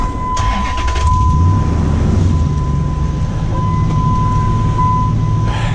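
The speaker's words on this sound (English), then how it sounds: "Start up the truck" A pickup truck engine catches after a short starter whir, then settles into a steady, fairly loud idle that runs on for several seconds, close by, with a faint whine riding over the rumble and no talking.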